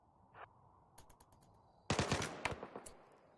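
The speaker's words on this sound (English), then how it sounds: "Gunfire rings out" Gunfire in the video game Rimworld: a short early shot, then a quick run of sharp clicks, and after that a loud dense burst of rapid automatic fire that tails off into scattered cracks.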